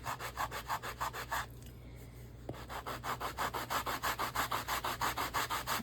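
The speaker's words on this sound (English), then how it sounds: "me just sanding" Rhythmic back-and-forth rasping of hand sanding on wood, steady strokes close up, pausing briefly midway before resuming at the same even pace.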